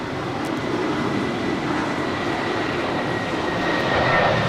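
An American Airlines jet taking off from runway 25 right at LAX, a loud steady engine roar with broad rushing noise that swells slightly toward the end, no voices.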